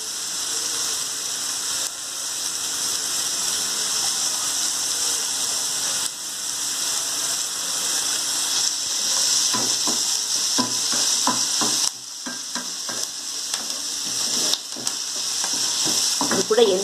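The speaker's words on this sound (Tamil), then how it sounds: "இந்த வெங்காயத்தை நல்லா வணக்கணும். நல்லா ப்ரௌன் கலரில் வர மட்டும் நல்லா வணக்கணும்" Onions fry steadily in a pan with curry leaves to be added for an egg tomato onion masala, giving a continuous sizzle with occasional stirring scrapes and clicks from a spatula.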